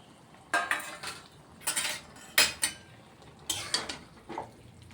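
Potatoes going into a cooking pot and being stirred for a vegetarian spinach, mung dal and bori curry, heard as several sharp clattering scrapes and knocks of utensil against metal in uneven bursts, close and fairly loud with no talking.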